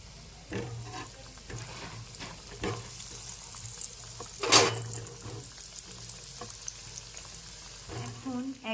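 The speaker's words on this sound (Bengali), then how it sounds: "একইভাবে আমি বাকি পকোড়াগুলো ভেজে নেব" Paneer pakoras frying in hot oil give a steady, soft sizzle close by, with occasional louder bursts of crackle and splatter.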